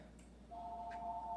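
A telephone sounds faintly in a room, giving a steady electronic tone that starts partway through and holds against a quiet background.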